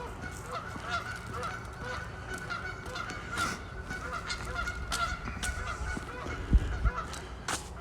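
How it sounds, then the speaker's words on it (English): Geese honk repeatedly beside a lake in Regina, their loud, ragged calls coming in overlapping bursts from close by against an outdoor background. "The geese."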